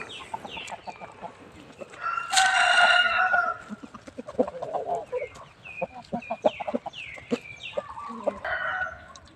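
Chickens and a rooster at Wat Pong Chai temple in Chae Hom, Lampang: a loud crow rings out near the start, then repeated clucks and bird calls continue close by, with no talking.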